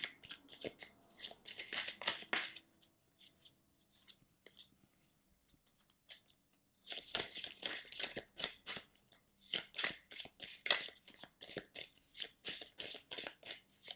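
Oracle cards being shuffled by hand during a reading, repeated soft riffling bursts close and quiet, a long run, a pause, then another long run.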